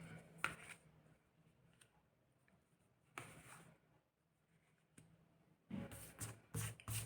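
Tarot cards being shuffled and drawn by hand, faint quiet riffles and soft slides in short bursts, with a louder flurry of shuffling near the end.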